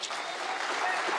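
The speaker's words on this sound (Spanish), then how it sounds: "le damos un aplauso al Señor" Congregation in a church service applauds in a brief, bright burst of clapping that fills the room and stays steady for just over a second.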